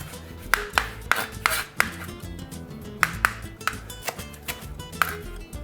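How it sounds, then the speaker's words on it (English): Cilantro, stems included, is roughly chopped with a knife on a board, sharp irregular thuds and taps in quick bursts over quiet kitchen background. "Then let's chop up our cilantro. And I just do this rough with all the stems and all."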